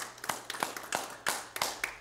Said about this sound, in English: Give the Lord a hand clap tonight.